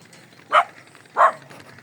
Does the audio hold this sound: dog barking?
yes